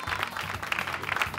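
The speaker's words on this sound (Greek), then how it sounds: "θέλω ένα χειροκρότημα" Studio audience on a television game show breaks into applause, a continuous dense patter of many clapping hands at moderate level.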